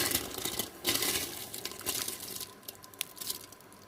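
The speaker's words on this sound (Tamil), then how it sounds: "அதனால் நம்ம இப்போ வந்து அரிசியை சேர்த்துக்கலாம்" Rice poured into a pot of boiling water for Thalassery chicken dum biryani, a close crackling, splashing patter of grains with small clicks and drips that thins out toward the end, no talking.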